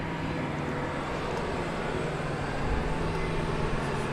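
A Boeing 747 airliner passing at DFW Airport at night, a steady, broad, continuous roar holding even throughout, swelling slightly toward the end.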